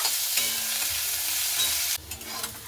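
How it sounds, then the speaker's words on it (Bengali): Cut onion frying and being stirred in a pan, a close, steady sizzle with scraping stirs that quiets briefly near the two-second mark, then resumes. "পেঁয়াজটাকে দিয়ে একটু ভালো মতো করে নাড়াচাড়া করে নেব।"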